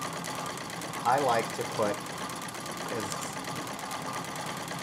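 A Singer 66 treadle sewing machine runs in a steady mechanical chatter during free motion quilting on a tote bag panel, with someone talking over the stitching.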